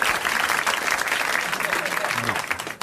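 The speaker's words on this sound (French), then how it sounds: "Il a droit à vos applaudissements." Applause from a studio audience on a 1981 French television show, a dense, steady wash of clapping throughout, fairly loud, with a voice briefly audible underneath near the end.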